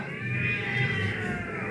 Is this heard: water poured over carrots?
no